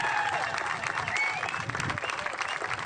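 Brief burst of audience applause at a ceremony in Aruba, a dense wash of clapping with a few faint voices mixed in.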